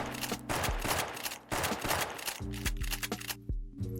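Shotgun fire in a first-person shooter game played in Kstyle, with loud repeated blasts: shots come in quick pairs, then a short gap for the reload shot, close and dense.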